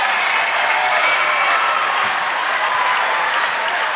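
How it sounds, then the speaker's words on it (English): A large crowd applauds and cheers steadily at a Wes-Del High School boys basketball game against Blue River, a dense, loud wash of clapping that holds throughout. "listen to the crowd."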